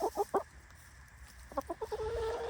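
Backyard chickens cluck nearby in short bursts, a quick run of clucks, a brief pause, then another series trailing into a longer drawn-out note.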